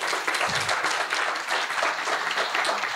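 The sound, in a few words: audience applause for a colleague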